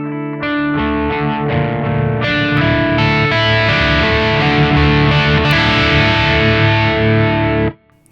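Electric guitar through a crunch distortion sounds a run of strummed chords, starting lightly driven and growing denser and more saturated as the picking gets harder, then cuts off abruptly near the end.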